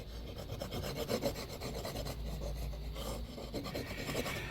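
A hand file rasps repeatedly across a metal rivet, cleaning it flush on a piece of medieval armour, in steady close back-and-forth strokes at a quiet level.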